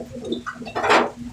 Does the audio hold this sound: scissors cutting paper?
no